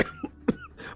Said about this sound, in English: My cough is back.